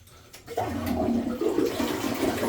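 A clogged toilet flushed again, a sudden loud rush of swirling water that starts after a short quiet pause and keeps draining steadily close by.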